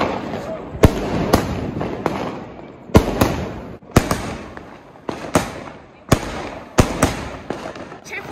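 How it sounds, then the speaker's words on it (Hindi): Diwali firecrackers pop and bang repeatedly in a yard or street as anar fountains are lit, sharp loud cracks every second or so over a crackling, hissing background. "चलो आज मैं आपको अनार जला के दिखा"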